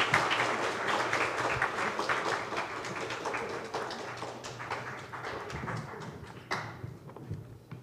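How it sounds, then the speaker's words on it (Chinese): An audience applauds after an academic lecture, steady clapping at moderate distance that gradually thins and fades, with a few sharper claps near the end. "再一次掌声谢谢王德威院士"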